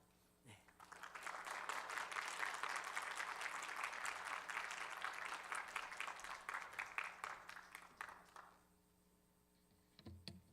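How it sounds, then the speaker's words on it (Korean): Church congregation at a youth worship service giving sustained, dense applause to welcome a missionary serving in Cambodia, steady for about eight seconds before fading, with faint voices at the end. "우리 선교사님 앞으로 나오실 때 여러분 환영의 박수로 함께 맞이하면 좋겠습니다"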